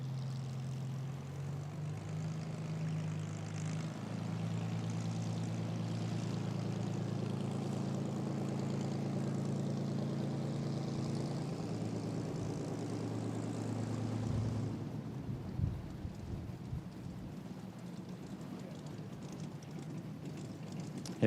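A Supermarine Spitfire with its Merlin engine taxiing at an airshow, giving a steady, loud, low propeller drone that turns rougher and uneven as the power drops near the end. No one speaks.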